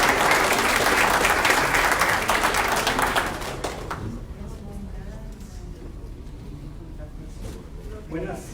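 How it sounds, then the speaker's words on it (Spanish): Audience at a book presentation in Mexico breaks into loud, dense applause for the next speaker, sustained for about three seconds before dying away into a quieter room murmur with scattered claps. "es un fuerte aplauso para él."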